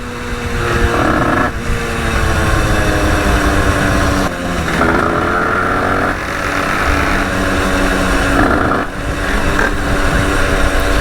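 A 50cc MRT motorcycle with a KRM exhaust and a modified engine runs steadily at close range, its buzzing two-stroke note holding near idle with a few brief dips and swells throughout.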